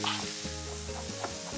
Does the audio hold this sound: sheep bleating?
no